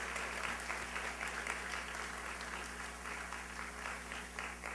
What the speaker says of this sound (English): please join me in giving all of them a wonderful round of applause.